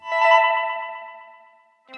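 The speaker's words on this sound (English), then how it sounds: "The fact that the echo's volume is linked to the main output faders of the mixer makes it fade out the way it naturally does" A tonal sound fades out through an echo effect as the mixer's output faders come down, its repeating pulses decaying smoothly over about a second and a half before a new tone starts briefly.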